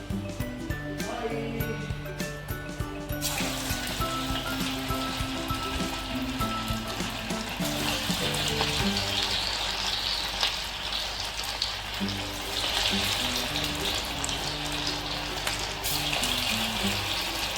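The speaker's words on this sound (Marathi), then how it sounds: "तेल तापलंय भाजी करायला स्टार्ट करूया आपण हातानेच टाकते" Corn bhaji frying in hot oil, a steady soft sizzling and bubbling hiss that runs continuously at low level, with faint clinks and a music-like background early on.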